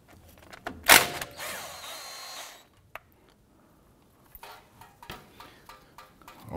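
A socket wrench with a 15 mm socket loosens the brake line bolt on a 2011-2018 Ram 1500 during a front caliper replacement, giving a sharp metallic crack followed by a stretch of ratcheting and clinking, then scattered light taps and clicks.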